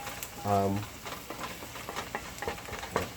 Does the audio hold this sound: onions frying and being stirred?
yes